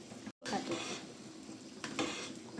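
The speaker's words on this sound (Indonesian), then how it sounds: "Lalu kita aduk." A chicken and tofu siomay mixture is stirred in a pan, giving a soft continuous scraping and sizzle with one brief break, close by and without speech.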